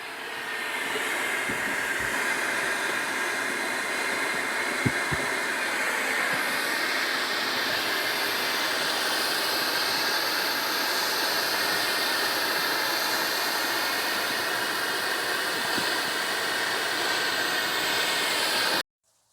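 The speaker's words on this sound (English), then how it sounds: "I was going to vacuum out the car" A steady, loud whooshing roar runs unbroken from start to finish, a close vacuum cleaner motor drone inside a Toyota RAV4, with no speech over it.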